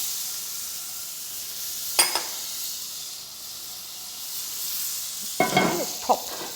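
Butter in a hot frying pan for gluten-free pancakes gives a faint steady sizzle, with a few sharp clinks and scrapes of utensils at intervals.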